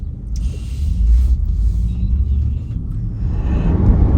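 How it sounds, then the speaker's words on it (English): A car on the road in Capitol Heights gives a loud, steady low rumble from inside the cabin, with a faint higher whine and no talking. "we're going to take a little drive"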